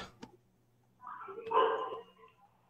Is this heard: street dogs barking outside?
yes